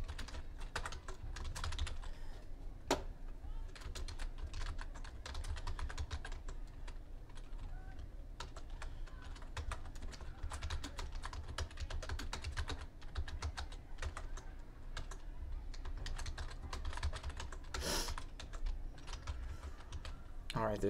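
Steady typing on a computer keyboard while making mailing labels in Publisher: a continuous patter of quick key taps and occasional mouse clicks, close and fairly quiet, running throughout.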